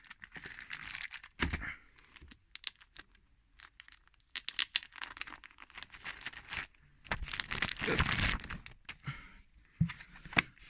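A Marvel Top comic book is opened and handled up close, with crisp paper crinkling, rustling and page flicks coming in irregular bursts. No one speaks.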